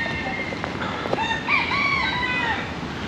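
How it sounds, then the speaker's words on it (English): Several cockerels crow in a park in Lisbon, their drawn-out calls rising and falling one after another, close and clear over steady outdoor background noise. "See, these birds are in good voice,"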